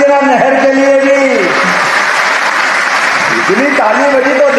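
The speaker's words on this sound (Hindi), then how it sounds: "इतनी ताली बजी तो देने की घोषणा करता हूं।" Crowd applause at a public rally in Madhya Pradesh: a loud, sustained wash of clapping fills the middle, with someone speaking over it at the start and end.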